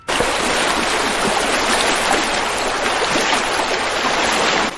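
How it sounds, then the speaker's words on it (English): River water flows in a steady, unbroken rush that stays even and fairly loud from start to finish, with no voices. "the river."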